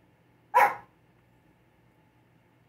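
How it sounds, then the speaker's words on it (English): A dog gives one sharp, loud bark nearby, followed by near silence. "My dog is barking"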